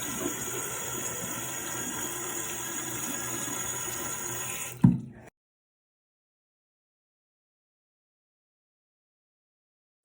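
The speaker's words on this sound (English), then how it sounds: "I splashed water on my face, I let it drip down" Running water at a bathroom sink as someone splashes their face, a steady gushing flow that cuts off abruptly midway with a thud, followed by silence.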